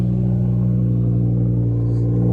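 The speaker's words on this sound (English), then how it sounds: "I'm scared he's gonna rev it. This thing is loud." An Audi R8 Performance, still on its rev limiter and untuned, idles with a loud, deep, steady engine rumble close by, even and continuous throughout with no audible voices.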